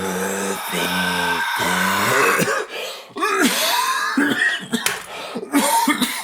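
A loud, close throat-clearing and coughing fit, several rough bursts in a row with harsh, raspy breaths between them.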